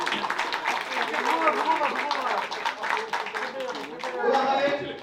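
An audience claps loudly at a Bangla drama performance to welcome the youngest performer, with dense applause mixed with a speaking voice throughout.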